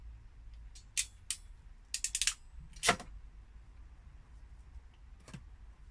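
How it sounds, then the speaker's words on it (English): A ratchet crimping tool closing on a blue electrical terminal during camper van wiring work, a quick run of sharp clicking ratchet steps followed by a louder clunk as it releases, close and otherwise quiet. "Our ratchet again, aiming for the blue."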